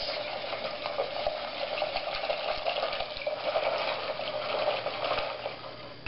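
Egg pudding mixture for banana pudding is stirred steadily in a pot, producing a continuous close scraping swish that holds a constant level with no pauses.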